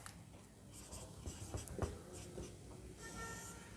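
A pen scratches across paper while a math proof is written out by hand, quiet and close, with irregular strokes and taps clustered in short bursts and brief pauses between them.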